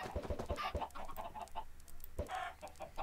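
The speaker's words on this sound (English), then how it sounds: "Okay, so now we have a lot of new chickens." Chickens cluck repeatedly in Minecraft, a blocky video game, with sharp clucks and short squawks in an irregular burst and no talk over them.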